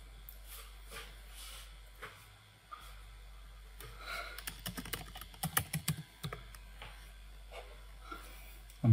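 Quick clicking keystrokes on a computer keyboard as a Python command is typed, sparse at first then a dense burst of taps in the middle, close and fairly quiet with no talking.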